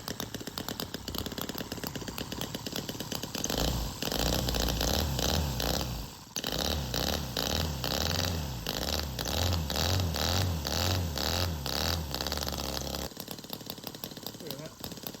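A running miniature Harley-Davidson V-twin knucklehead engine, still running rich, gives a rapid, loud, buzzing exhaust chatter up close that steadies and strengthens as it warms, with a short dip midway.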